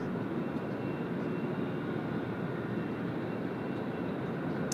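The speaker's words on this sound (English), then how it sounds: "Qantas 81 just about to roll now" A Qantas jet airliner rolls for takeoff on runway 34 left at Sydney Airport, bound for Singapore, a steady, distant, faint roar of engines with no talk.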